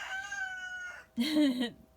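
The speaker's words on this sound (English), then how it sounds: "The rooster agrees." A rooster crows once, a short, fairly close call in the second half, following a brief harmonic voice-like tone.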